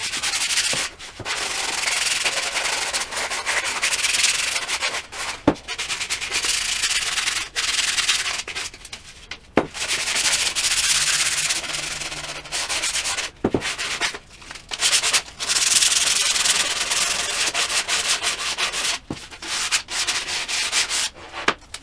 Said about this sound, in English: then you'll do some fine sanding